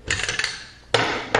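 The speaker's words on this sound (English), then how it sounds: "we'll flip it over and the elevator comes right out just by squeezing it together" Metal parts of a Mossberg 500 pump shotgun handled during disassembly as the elevator is squeezed out of the receiver, a few quick light clicks followed by two sharp, loud metallic clacks up close, with no voice.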